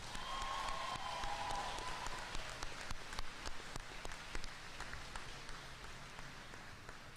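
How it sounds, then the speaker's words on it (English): A high school graduation audience applauds: a steady, moderately distant wash of clapping with sharper individual claps poking through, lasting several seconds. "Can I have a round of applause for all of them, please?"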